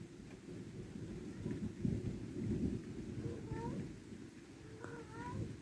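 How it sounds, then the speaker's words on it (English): Faint cat meows rise over a low, steady rumble of thunder and rain outside during a hot-weather thunderstorm, a few short calls toward the end, distant and partly masked by the storm. "There's a cat again."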